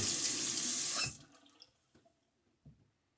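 A bathroom tap runs in a loud steady gush during a wet shave, then shuts off abruptly after about a second, leaving a few faint drips and small splashes in the sink.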